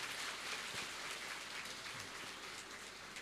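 An audience at a motivational talk session claps together in a dense, steady wash of applause, heard faintly and evenly from a distance without pause.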